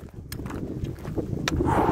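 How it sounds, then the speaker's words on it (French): Wind gusts blow across the microphone outdoors on the GR 367 hiking trail near the sea, a rough rumbling buffet with a few brief knocks and a rise in noise at the end. "Il y a un vent qui souffle"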